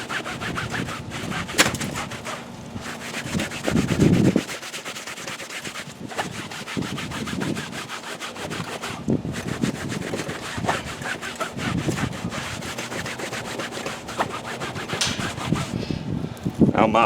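A fabric car seat is lightly scrubbed with cleaner using a brush, giving repeated close back-and-forth bristle rubbing strokes in an uneven rhythm, with occasional louder thumps and handling noise.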